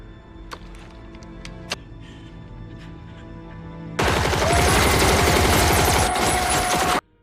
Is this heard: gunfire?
yes